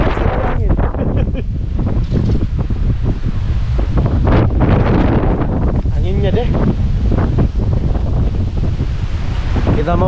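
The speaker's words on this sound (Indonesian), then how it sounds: "Anginnya" Strong wind at a wind farm in Sidrap, Indonesia, buffeting the microphone with continuous loud roaring gusts, while people talk faintly underneath.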